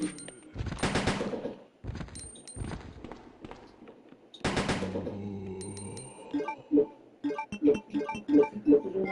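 Rapid bursts of automatic gunfire in the 1998 Resident Evil 2 video game, loud and close, coming in several dense volleys separated by short pauses, followed by a quieter stretch of rhythmic thuds and game noises.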